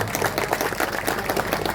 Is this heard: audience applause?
yes